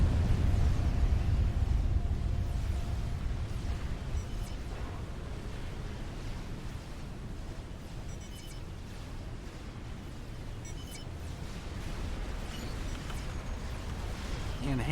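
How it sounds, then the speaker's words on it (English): A nuclear explosion in the real-time strategy game Supreme Commander: Forged Alliance, a loud low rumbling roar that peaks at the start and stays dense and sustained throughout, with a narrator talking over it. "there goes the nuclear explosion"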